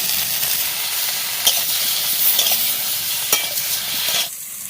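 Chili and turmeric hit a hot pan of village-style chicken curry with cauliflower, raising a loud, continuous sizzle with sharp crackles that cuts off abruptly near the end.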